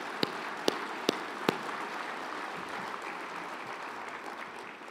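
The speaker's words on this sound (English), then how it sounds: "please join me in a round of applause for all of our sponsors and organizers" Conference audience at a lithium summit in Arkansas gives a round of applause for sponsors and organizers: a few sharp near claps at first, then a soft, even wash of clapping from a distant crowd.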